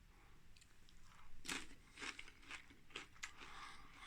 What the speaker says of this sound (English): I do love getting that bit of crunch when I'm eating my chilies